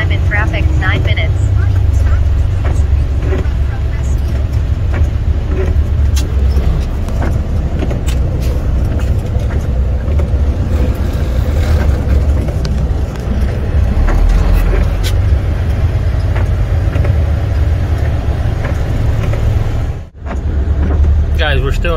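Continuous low rumble of engines idling and creeping in road traffic, heard up close from a truck hauling intermodal containers, with a brief dip in the noise near the end.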